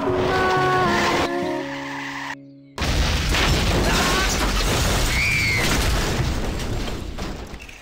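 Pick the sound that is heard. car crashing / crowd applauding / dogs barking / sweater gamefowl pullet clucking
car crashing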